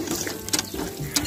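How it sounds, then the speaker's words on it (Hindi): Hand pump drawing sweet groundwater in a Pakistani Hindu village, with squeaky ratcheting strokes and gushing, splashing water. It is close and fairly loud, and there are no voices. "अभी हमारे लिए पानी निकाल रही है।"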